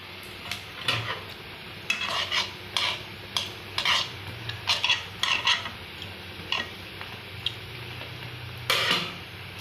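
Spinach bonda fry in shallow oil as they are turned, with a soft sizzle beneath repeated clinks and scrapes of a metal utensil against the pan.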